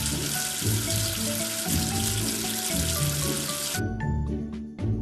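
Water running and splashing as a cartoon number figure is washed with soap, a steady wet rush over light music lasting several seconds, then thinning out near the end.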